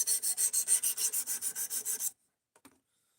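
Close rhythmic rasping of a D2 steel Ozark Trail axis lock knife stroked across a sharpening stone, about a dozen quick even passes, then stopping abruptly with a couple of faint knocks.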